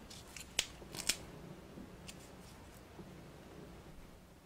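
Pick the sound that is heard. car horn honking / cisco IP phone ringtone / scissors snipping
scissors snipping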